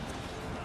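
Cavalry horses gallop in the video game Total War: Three Kingdoms, a dense, loud clatter of hoofbeats filling a very short burst.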